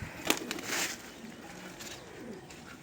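Ground roller pigeons coo in a loft. Soft, throaty coos repeat over a hissy background, with a few sharp clicks and what may be light wing flutters.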